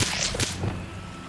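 Incendio fire spell cast in Hogwarts Legacy, a sharp whooshing whip-like burst with a quick second flare, then a fading crackle, heard alone.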